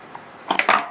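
Scissors cut craft material for a Christmas gingerbread decoration, giving a quick run of two or three close, crisp snips after a moment of near quiet.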